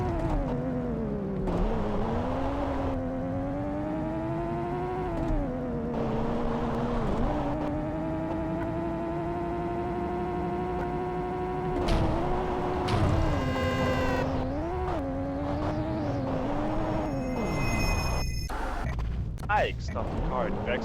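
A car drives in the video game Payback 2, its engine holding a steady drone that rises and falls with the throttle. Game voices and other effects are heard over it.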